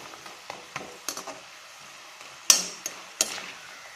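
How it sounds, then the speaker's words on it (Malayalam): Masala peanuts being stirred as they fry in a pan, with scattered clinks and scrapes of the spoon against the metal, a few sharper knocks standing out, close and fairly quiet. "ഇങ്ങനെ ഇളക്കി ഇളക്കി നന്നായിട്ട് ഇതൊന്ന് മുരിയിച്ചെടുക്കണം"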